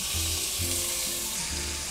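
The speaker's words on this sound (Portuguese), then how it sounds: "O tempo para selar a carne pode variar de 15 a 20 minutos." Beef rump (maminha) sears in a hot pan with a loud, continuous close-up sizzle and spitting fat, steady throughout, with no talking.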